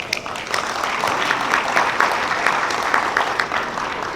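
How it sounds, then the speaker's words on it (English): Audience at a green technology summit panel applauding the speakers, a dense, even wash of clapping sustained throughout at moderate distance. "I think they deserve a big round of applause"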